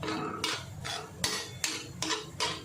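Quiet, rhythmic metal scraping and tapping as roasted potatoes and fenugreek are mashed on an iron griddle, about seven even strokes with no talking.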